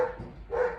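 Dogs let out two short, sharp barks close by, with a brief gap between them and no talking.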